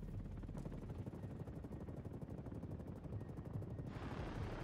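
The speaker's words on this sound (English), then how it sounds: "Above you is a helicopter." A steady rhythmic helicopter rotor thump in the video game Ghost Recon Wildlands drones throughout, low and constant, with a faint burst of noise partway through.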